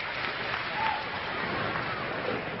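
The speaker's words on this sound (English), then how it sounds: "Crowd reaction, they're alive here tonight." Bowling spectators at a 1995 PBA Tour Touring Players Championship clap and cheer, a muffled, moderately loud wash of applause from the arena crowd.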